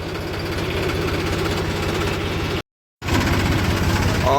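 A tractor engine runs steadily while driving on a dry, dusty village route, a loud, continuous low throbbing with constant vibration, broken by a brief dropout before resuming at the same level.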